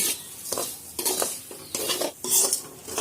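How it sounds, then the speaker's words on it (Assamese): A spoon stirs semolina and sugar in a ghee-coated pan over a medium gas flame. Several distinct scraping, rustling strokes sound close by, with a faint sizzle between them and no talking. "এনেদৰে মই আপোনাৰ চুজিখিনি লৰাই দিম"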